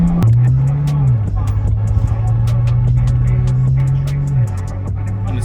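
BMW 335 with an N54 engine fitted with Turner relocated inlets, cruising in third gear near 3,500 RPM at about 50 mph: a steady, loud engine drone that rises briefly, then drops in pitch, under road noise throughout.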